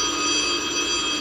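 An old-fashioned telephone bell rings steadily and loudly throughout, a continuous electric trill with no voices, in an interior scene from a 1970s German crime drama.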